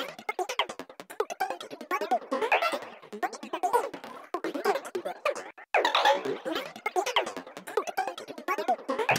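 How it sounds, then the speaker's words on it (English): Vocal sample chopped by a gate effect in Ableton Live, rapid stuttering bursts of sung or spoken sound cut into choppy fragments, steady and moderately loud with no other sounds. "We got some sort of a gate."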